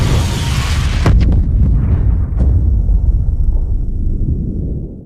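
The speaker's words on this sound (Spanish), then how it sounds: "La explosión inicial desencadenó una segunda explosión catastrófica que destruyó la parte delantera" Explosion of a torpedo aboard the Russian submarine Kursk as a sound effect, a loud deep boom with a sharp crack and crackling burst near the start, followed by a long rolling rumble that slowly fades.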